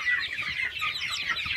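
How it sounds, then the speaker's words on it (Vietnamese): A month-old flock of farm chickens clucks steadily up close, overlapping soft calls forming a continuous busy chatter with no talking. "Đây là bầy gà mà mình đã nuôi trong thời gian là 1 tháng đó các bạn"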